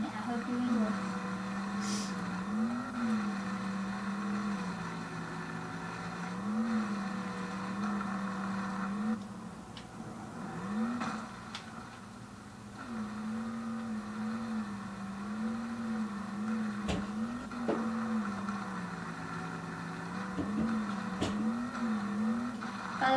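Engine of an off-road vehicle in MX vs ATV Reflex on a muddy course, a steady droning hum with rising and falling revs running throughout, occasionally under a talking voice.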